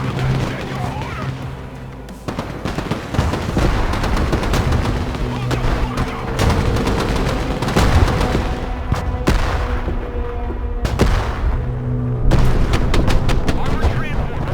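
Artillery fire mission in the video game Broken Arrow: repeated loud booms and crashing blasts over a steady battle din, with short radio-style voice callouts breaking in between the impacts.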